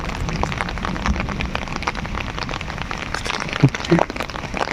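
Steady rain pattering on a surface, a continuous wash of drops with a few louder knocks near the end, no voices.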